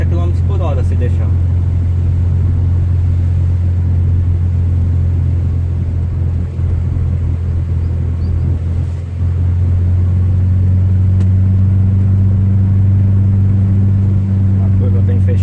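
A Nissan automatic car pulling hard in second gear, a loud steady low engine drone with road rumble that holds through the whole stretch, rising slightly near the end.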